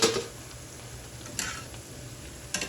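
Steady sizzle of onion fritters frying in hot oil with a few sharp clinks of a utensil at the start, midway and near the end.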